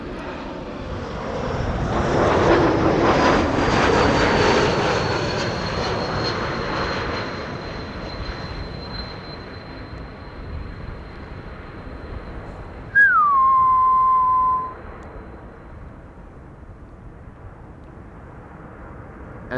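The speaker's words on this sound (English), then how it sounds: "E2 Embraer 195, listen for the whistle." An Embraer E195-E2 airliner lands under a broad engine roar. A high, steady whistle runs alongside the roar and slowly falls in pitch, then a brief, louder whistling tone sweeps down and holds.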